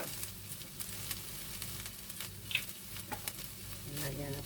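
Lumpia shanghai filling simmering and sizzling softly in a pan, with a steady low crackle, occasional stirring scrapes and a brief clink, close by with no talk.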